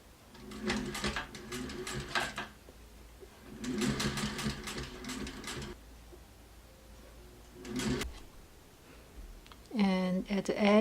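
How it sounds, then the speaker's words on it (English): A sewing machine stitches a fleece dog coat with bias tape in short runs of rapid, close-up whirring, separated by pauses, with a person speaking briefly at the end. "we start sewing the first line."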